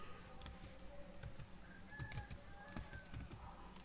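Fingers tapping on a computer keyboard while writing a C program, quiet irregular clicks in short bursts with faint background noise and a few bird-like chirps.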